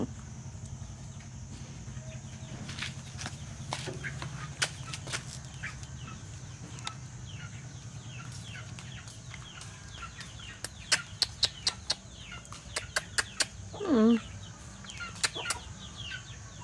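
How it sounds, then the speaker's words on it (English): Young chickens on a countryside farm clucking and peeping in scattered short calls over a steady low hum, with a louder burst of sharp calls near the end. "these are baby chickens, but not so cute"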